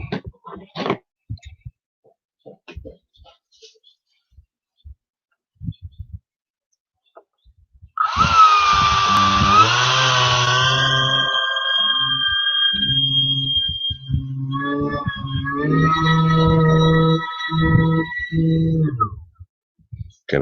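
A custom-assembled electric ducted fan (EDF) unit, not yet balanced, spins up after a near-silent stretch of faint clicks into a loud, steady high-pitched whine with layered harmonic tones that wavers slightly before cutting off near the end.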